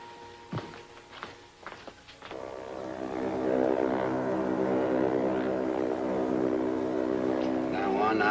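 A propeller airplane drones steadily and loudly through most of the stretch, its hum building in after a few short knocks and brief voice-like sounds at the start, in an old serial drama scene.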